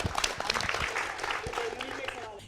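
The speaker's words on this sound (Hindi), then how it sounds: "जोरदार तालियां इस सवाल के लिए" Applause from a studio audience on a Hindi TV debate show, a brief burst of clapping with crowd noise mixed in.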